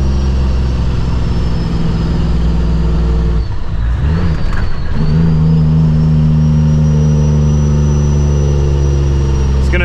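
A heavy truck with a Cummins engine, pulling a concrete load, drones loudly and steadily from inside the cab. Its note dips briefly midway, as in a gear change, then settles back into a strong, even pull.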